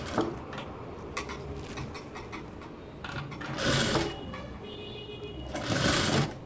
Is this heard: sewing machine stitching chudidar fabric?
yes